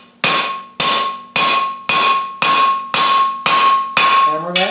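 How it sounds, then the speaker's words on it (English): A hammer strikes hot steel on an anvil while a bulldog bottle opener is forged, eight evenly spaced loud ringing blows, each clang decaying before the next, with no talk. "Hammer that down."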